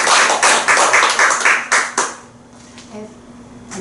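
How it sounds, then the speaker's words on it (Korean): A small group claps at a Buddhist dharma assembly, a dense burst of close hand claps that fades after about two seconds into a few scattered taps and quiet room sounds. "박수"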